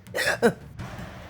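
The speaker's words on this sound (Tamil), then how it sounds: "விக்கல் வருது, நீங்க முதல்ல தண்ணிய குடிங்க அத்தை." A woman at a wedding hall lets out a single brief voiced hiccup, close and clear, followed by a softer breathy sound.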